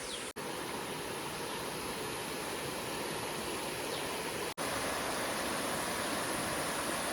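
Steady, loud rush of flowing water in a monsoon forest at Pavagadh, a continuous broadband roar like a fast stream, with no voices.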